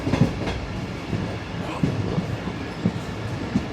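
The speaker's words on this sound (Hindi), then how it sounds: "वो आ रही है जी शालीमार एक्सप्रेस" The Shalimar Express rolls in on a Pakistan railway line near Khanewal, with rhythmic clickety-clack wheel thumps over rail joints and a steady rumble, moderately close, without talk.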